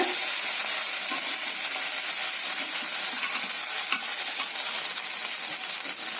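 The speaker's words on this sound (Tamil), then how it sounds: "இதெல்லாம் ஒட்டுக்க கலந்துக்கோங்க நல்லா கலந்துட்டு காமிக்கிறேன்" Semiya puttu being stirred in a frying pan, a steady dry scraping and rustling with a faint sizzle running throughout, close and continuous with no talk.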